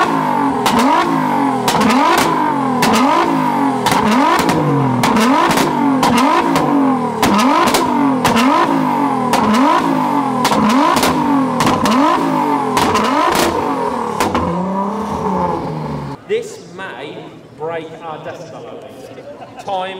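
A supercar engine revs hard again and again in a fast repeating rise-and-fall rhythm at an outdoor supercar soundoff, very loud and close, before settling as people talk.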